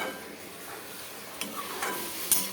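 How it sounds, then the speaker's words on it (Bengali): Goat meat is stir-fried in a wok, with a soft, low sizzle under sparse clicks and taps of a spatula against the pan, quiet and close. "ভালো করে কষাবো, এখন কষতে থাকবে"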